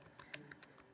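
Quiet clicks of typing on a computer keyboard, around half a dozen light, quick keystrokes in an uneven rhythm, faint and close.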